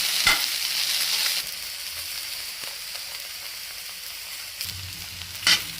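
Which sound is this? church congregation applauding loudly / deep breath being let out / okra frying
okra frying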